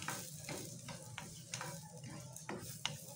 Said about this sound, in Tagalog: Tapos, igisa na natin yung siyempre garlic